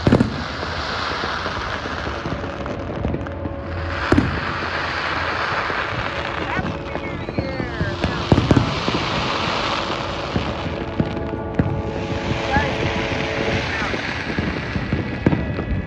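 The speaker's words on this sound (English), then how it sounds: "watching the fireworks go off for the New Year" New Year's Eve fireworks in Puerto Vallarta, Mexico pop and crackle repeatedly at a distance over a steady background roar, with scattered louder bangs and faint voices.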